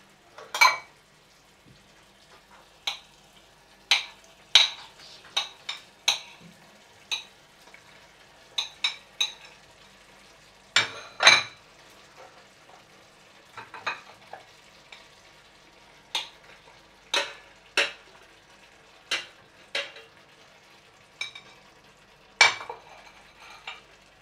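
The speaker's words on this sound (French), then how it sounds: "Quand le vin rouge est évaporé, vous rajoutez vos boulettes." Meatballs in a pan with reduced red wine, being moved about, produce a series of sharp, separate scraping and clinking hits against the pan over a faint low sizzle, spaced irregularly with short gaps between them.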